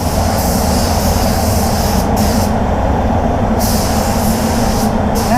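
Spray gun applying solid black paint to the bonnet of a Volvo XC40, a loud, continuous close hiss with a few brief dips in the highs.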